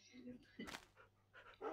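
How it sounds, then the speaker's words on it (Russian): Dogs in the Minecraft video game give short whimpers and soft yips, a few brief faint bursts close together. "Привет, собачки."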